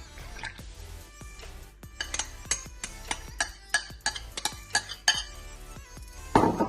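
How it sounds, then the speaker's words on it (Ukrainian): Flour, salt, soda and kefir are mixed in a bowl, a close series of quick clinking and scraping strokes of a utensil against the bowl with soft wet squishes, louder toward the end. "Тепер наша задача все гарненько вимішати."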